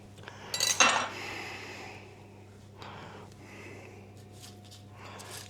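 Uncooked homemade sausage rolls are set down on a metal baking tray, giving a quick clink and scrape near the start, followed by quieter handling sounds and soft breathing.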